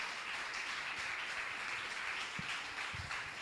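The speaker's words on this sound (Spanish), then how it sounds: "Dale palmas fuertes a ese Dios maravilloso" A church congregation claps loudly in praise of God during a sermon, a dense, steady wash of many hands sustained throughout without a break.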